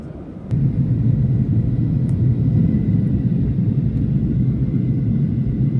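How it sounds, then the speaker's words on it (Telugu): A steady low engine rumble of an aircraft passing overhead begins after a short quieter moment and holds constant, with no voices. "ఒక ఫ్లైట్ వెళుతుంది"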